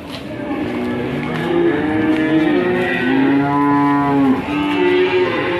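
Several feeder cattle, newly arrived at Panjer, moo loudly and close by, long low calls overlapping one another against a steady background of farmyard noise.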